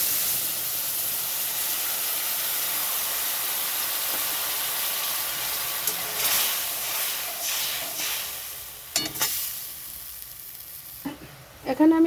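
Tamarind water goes into a hot tempering of white mustard seeds and dried red chillies, giving a steady loud sizzle and hiss that later breaks into a few sharp bursts of spitting and scraping.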